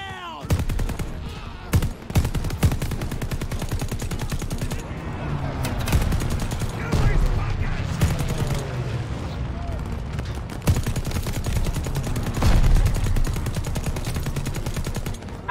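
Dense Call of Duty Vanguard gunfire in a trench battle, with rapid machine-gun bursts and rifle shots sounding continuously and loud, under distant booms, with occasional voices over the shooting.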